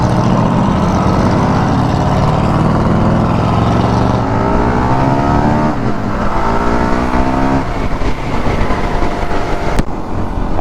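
A motorcycle engine revs loudly and continuously up close, a dense rising and falling roar with shifting pitch across several throttle sweeps, no pause throughout.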